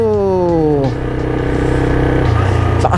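A Kawasaki Z200 motorcycle engine revs up with rising pitch close by, drops back, then settles into a loud steady running drone with another short rev at the end.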